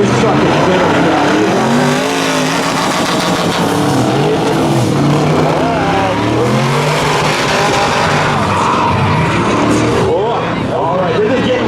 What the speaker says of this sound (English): Oh, this truck is very fast.